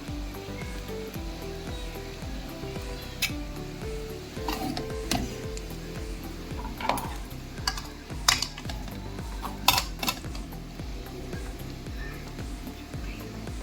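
Chicken noodles are tossed in a pan with tomato sauce and chilli flakes: a spatula clacks and scrapes irregularly against the pan over a soft sizzle, and several sharp knocks come near the end.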